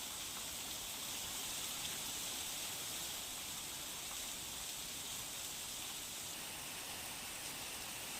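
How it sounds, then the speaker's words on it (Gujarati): Heavy monsoon rain falls over rural Savarkundla in Amreli, heard as a steady, even hiss of downpour with no break, fairly faint and with no voices. "અમરેલીમાં સાવરકુંડલા અને ગ્રામીણ જે વિસ્તારો છે ત્યાં ધોધમાર વરસાદ પણ વરસ્યો છે।"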